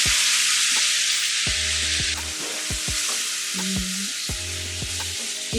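A sizzling mixture is poured into a hot pan of mushrooms for a mushroom masala. The sizzle is loud and steady, with scattered clinks and stirring knocks from a utensil.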